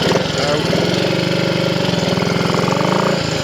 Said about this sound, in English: The engine is performing and sounding really well.